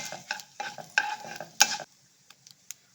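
Urad dal frying in a pan for tomato chutney, stirred with a spoon: a series of close scraping and clinking strokes over a light sizzle for the first two seconds, then near quiet with a few faint ticks.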